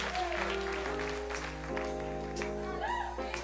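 A church congregation claps along during a live gospel performance, rhythmic hand claps mixed with sustained organ or keyboard tones and some voices.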